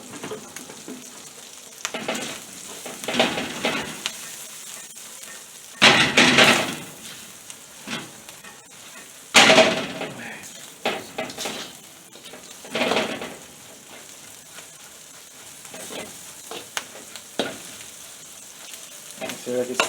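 Garlic sizzles in oil in a pan for stir-fry noodles, a quiet frying hiss broken by several louder bursts of stirring and scraping, close and with no talking.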